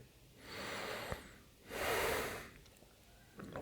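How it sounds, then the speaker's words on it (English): Slow, deliberate breaths during a yoga session: a long inhale and then a fuller exhale, near and soft, with no talking. "Just breathing in and out"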